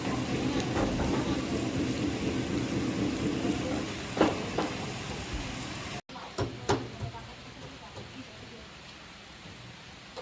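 Steady rain patters in the background at a beach house build site in the Philippines, with scattered taps and a few sharper knocks, a voice speaking over it at times.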